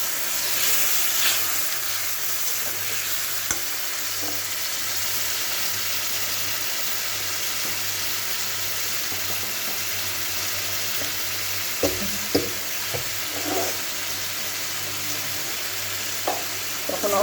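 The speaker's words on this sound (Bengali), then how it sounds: "এখন মশলা আমি ভালো করে ভেজে নিই।" Ginger, green chili and tomato with salt and turmeric sizzle steadily in a pan over a constant frying hiss, with a few sharp stirring clatters near the end and no talking.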